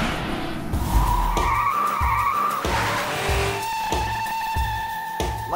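A 1969 Ford Mustang 428 Cobra Jet muscle car screeches its tires in several sustained squeals over a rumbling engine, heard fairly close, with the revs rising and falling between skids.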